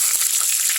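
Shallots and mustard seeds fry in hot coconut oil, giving a brief, bright sizzle and hiss with faint crackles, close and fairly loud.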